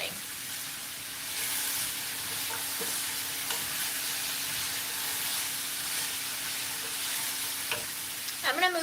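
Watermelon rind darkened with soy sauce fries in a pan, giving a steady, moderate sizzle that holds evenly throughout, with a few light clinks and a brief louder crackle right at the end.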